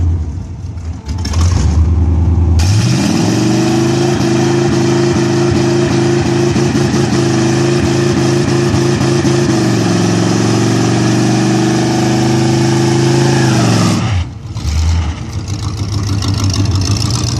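A Chevrolet Monza race car engine revs hard and holds a loud, sustained roar close by for about eleven seconds, with a rough idle before and after and rising and falling pitch as the throttle is worked.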